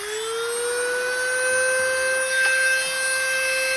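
A Dremel rotary tool cuts through soffit around a deck light with a loud, steady high-pitched whine. Its pitch rises slightly as the tool spins up, then holds constant at close range.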